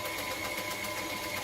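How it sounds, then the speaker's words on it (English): Electric mixer whirring steadily in a home kitchen while cupcake batter is made, a continuous close motor drone with no talking over it. "So I'm going to slow this mixer down a little."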